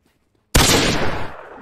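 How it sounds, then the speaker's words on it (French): A single sharp, loud gunshot in Counter-Strike: Global Offensive cracks out of near silence and rings off over about a second. "Respolo et Airboxer, tu vas te prendre une balle dans la tête"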